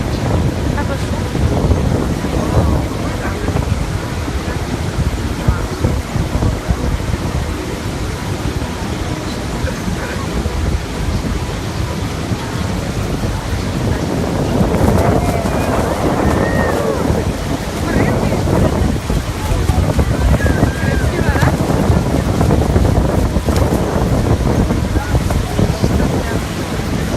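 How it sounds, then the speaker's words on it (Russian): Steady, loud roar of Niagara Falls, a broad continuous rush of falling water with wind buffeting the microphone throughout, no clear speech. "Вот это второй водопад. Там еще 2 водопада. Очень красиво. Такой шум."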